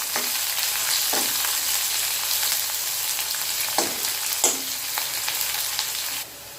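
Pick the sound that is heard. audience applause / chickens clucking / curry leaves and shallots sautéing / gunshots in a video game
curry leaves and shallots sautéing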